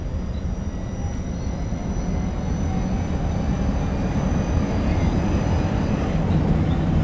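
A tram in the TramSim video game runs with a steady low rumble and hum that builds slightly over time, continuous and fairly loud with no talk over it.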